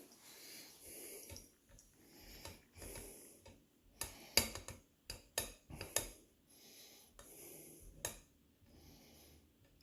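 A spatula pushes panna cotta mixture through a strainer, making soft scraping strokes with sharp metallic ticks and clicks in irregular bursts, close and fairly quiet.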